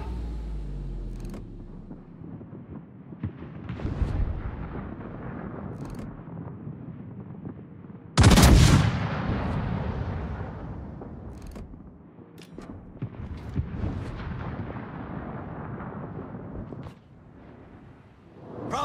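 A Tier 9 USS Georgia battleship fires in the World of Warships naval game, one heavy booming salvo erupting midway over a steady wind-and-engine rumble, then fading back into ambient sea noise.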